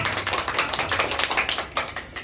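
Children at a Sunday school worship service clap in applause, a dense run of quick, overlapping hand claps lasting about two seconds at moderate level with no talk.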